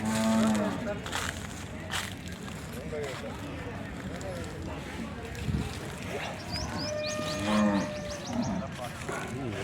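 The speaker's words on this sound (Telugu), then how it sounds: "ఆవును చూపిస్తున్నాను" Punganur cows low repeatedly at a cattle market, several drawn-out moos near and farther off, mixed with other calls and background bustle while people talk.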